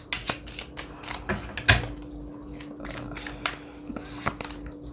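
Tarot cards are shuffled and flicked in a quick, irregular run of crisp riffling snaps and slaps, close and clear over a faint steady hum.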